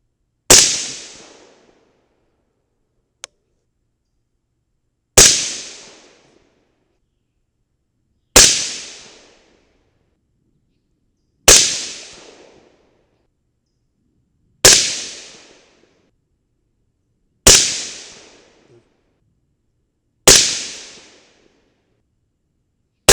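A 5.56 rifle loaded with 55gr Sierra BlitzKing bullets fires seven sharp, loud shots, evenly spaced about three seconds apart, each cracking hard and decaying quickly into quiet, with a faint click between the first two.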